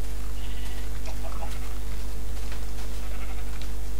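Sheep bleat in the Minecraft video game, a few short bleats over a steady low hum and constant background noise.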